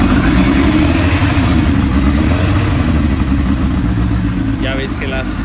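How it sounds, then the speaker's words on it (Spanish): Kawasaki-based cafe racer motorcycle with a bank of carburetors, engine running after the starter button is pressed, a loud steady rumbling idle close by with a voice talking briefly toward the end. "Y le damos al botón de arranque."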